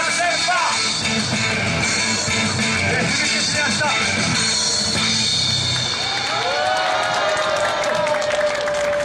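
Applause from a crowd at a candlelight rally after a live performance, steady clapping and cheering throughout with a mix of voices underneath.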